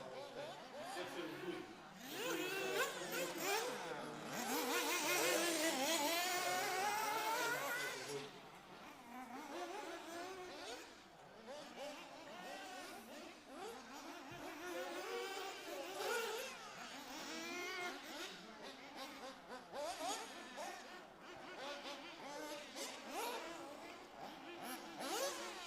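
Nitro-powered 1/8 scale RC buggies race around an outdoor track, their small engines giving a sustained high, buzzing whine that swells loudly early on, then several engines rise and fall at middle distance over continuous background noise.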